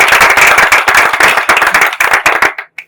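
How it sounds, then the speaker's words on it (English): A short, close round of applause, sharp rapid hand claps from a small group that thin out and stop after a few seconds. "You had a good round of applause"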